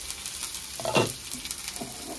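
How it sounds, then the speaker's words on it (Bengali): Snake gourd frying in a pan gives a steady low sizzle, broken by a brief scrape of stirring near the middle and another softer one toward the end. "এটাকে ভালো করে ভেজে নেব"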